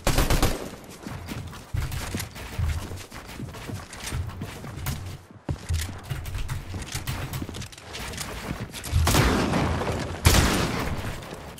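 Shotgun blasts in a competitive battle-royale video game match, dense bursts of gunfire and impacts running through the whole stretch with louder volleys near the end, no talk over them.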